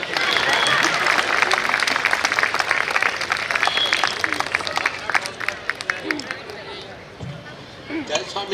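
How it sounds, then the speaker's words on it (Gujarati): A crowd at a long-service awards ceremony breaks into lively clapping that thins out over several seconds, leaving scattered claps, chatter and voices. "નિલેશભાઈના વજન જેટલી તો તાળીઓ પાડો યાર"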